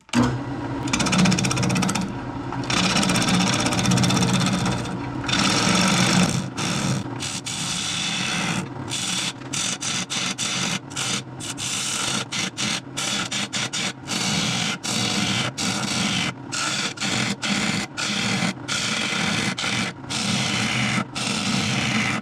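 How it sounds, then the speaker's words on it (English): A wood lathe hollowing a small bowl from firewood, with a rough scraping hum broken by repeated short pauses as the tool lifts and returns. "we got it on the lathe. It's a pretty small bowl. Let's just hollow this thing out."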